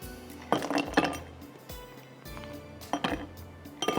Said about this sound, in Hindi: तो हम पहले इसमें बर्फ़ ग्लासेस के अंदर डाल देते हैं